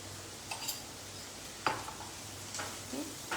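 Salted onions frying in a pan are stirred with a utensil, giving a soft steady sizzle broken by a few light scraping clicks of metal against the pan, close and fairly quiet.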